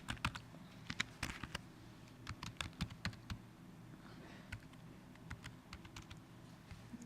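Irregular bursts of quiet clicking as someone types an email address on a computer keyboard in a Google sharing dialog, with short pauses between runs of keystrokes and no talking.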